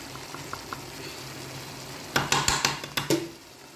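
A utensil stirs softened chicken with ground masala powder in a pan. After a quiet sizzle, it scrapes and clinks against the metal in a quick burst of close, rhythmic strokes.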